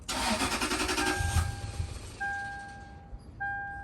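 A Toyota/Lexus 2UZ-FE V8 cranks and fires up, settles into a steady near idle with a tonal whine, drops off, then is cranked again with a short restart burst; no talk.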